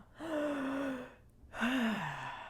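Audible breaths from a person breathing shallowly: two drawn, sighing gasps separated by a short pause, close and clear with no talk over them.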